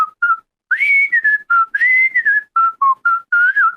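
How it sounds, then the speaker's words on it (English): Someone whistles the Andy Griffith theme song, a bright melodic tune played in short phrases with brief pauses between them, close and clear, with no talking. "I always wanted to learn how to whistle that song."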